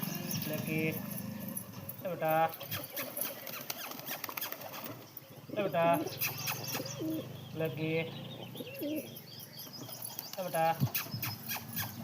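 Pigeons coo in short repeated bursts near a female pigeon with fully feathered feet, while someone talks over and between the calls.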